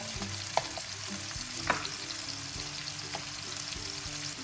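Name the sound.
stirring friggitelli peppers frying in a pan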